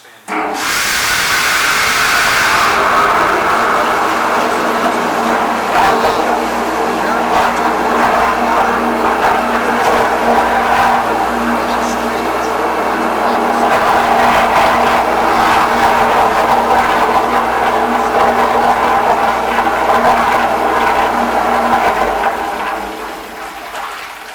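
An Admix Rotosolver mixer powered on from 220V three-phase supply gives a loud, steady motorized whir and churn that holds for about twenty seconds, with a brief hiss at start-up and a tapering end.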